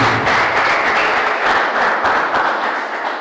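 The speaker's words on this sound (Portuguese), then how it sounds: "Vamos aplaudir nosso Deus" A church congregation applauds during a worship service, a thick, continuous wash of clapping that stays loud and even from start to finish with no speech.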